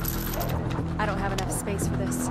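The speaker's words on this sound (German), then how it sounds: "30 Schuss wieder eingeladen." Gun reload in the PC video game State of Decay, a quick mechanical clatter of clicks and a ratcheting snap over a steady low game hum, with someone talking over it.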